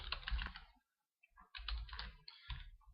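Typing commands on a computer keyboard: close, quiet bursts of rapid key clicks separated by a brief pause, with no one talking.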